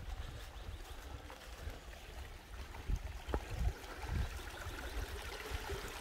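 A brook bends beneath small footbridges on a walking trail near Vaumarcus by Lake Neuchâtel, its water murmuring in a steady broadband wash with a few soft splashes and knocks, close and continuous, with no voices.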